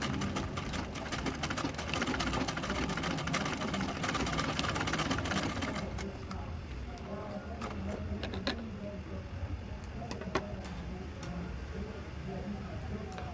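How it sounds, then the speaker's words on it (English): A sewing machine hums steadily while sewing a ring onto a zipper bag. The whirring is strong for about six seconds, then quieter with scattered clicks and faint talk in the background. "I'm just going to sew on that to hold it to the bag"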